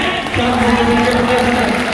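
A crowd at a large political rally claps and cheers, with sustained applause and a raised chanting voice riding over it, loud and continuous throughout.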